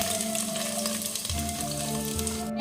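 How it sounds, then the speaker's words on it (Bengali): Onion dropped into hot white oil in a frying pan, giving a loud, continuous close sizzle that holds steady without pause. "এবার পেঁয়াজটা দিয়ে দিচ্ছি।"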